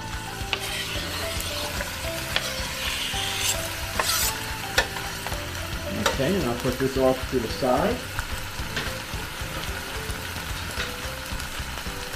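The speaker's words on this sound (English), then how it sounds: "We're gonna place it into our frying pan." Chicken, peppers, onions and almonds sizzle and fry in a frying pan, with steady stirring and scraping of utensils against the pan and a few brief spoken words over the cooking.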